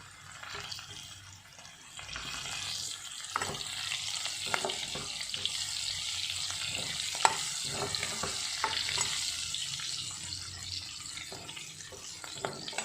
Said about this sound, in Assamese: এনেদৰে পিঁয়াজটো অলপ সিজিবলৈ দিছোঁ